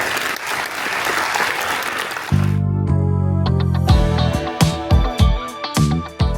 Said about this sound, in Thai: ก็ขอพวกเราปรบมือต้อนรับให้ท่านคณะมนตรีอยู่ด้วยนะครับ